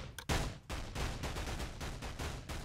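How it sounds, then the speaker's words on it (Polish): Rapid gunfire aimed at the player in the stealth game Of Guards and Thieves, a dense, continuous volley of shots that runs unbroken for a few seconds without talk. "Aj, ktoś tam do mnie ostro strzela."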